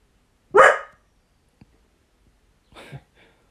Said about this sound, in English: That's Benji barking in the background.